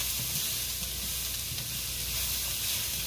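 Chopped onions fry in hot oil in a wok for chicken fried rice, giving a steady, close sizzle with faint stirring scrapes throughout and no talk.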